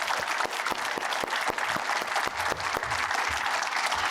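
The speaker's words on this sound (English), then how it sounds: "Let's have a nice round of applause for everybody on the panel." A room full of people at a panel discussion claps steadily together, a sustained round of applause at moderate distance with no voices over it.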